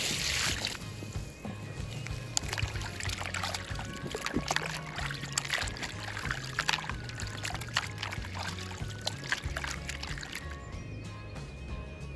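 Fish pieces are washed by hand in water in a bowl, a continuous close sloshing, pouring and trickling with small splashes and knocks, without talk.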